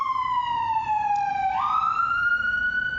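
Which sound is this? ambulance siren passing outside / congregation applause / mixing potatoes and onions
ambulance siren passing outside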